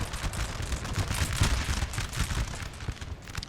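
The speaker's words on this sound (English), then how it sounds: "I think that's friendly cannons." Cannon fire rolls across a Napoleon Total War battlefield in a dense barrage of booming shots and crackling volleys, loud and continuous without any talking.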